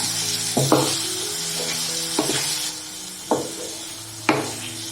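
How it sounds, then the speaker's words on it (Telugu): Paneer stirred into chicken keema frying in a pan for samosa filling, a steady close sizzle broken by several scraping stirs of a spoon against the pan. "ఇప్పుడు పన్నీర్ వేసేస్తున్నాను. ఒకసారి కలుపుకున్నాను."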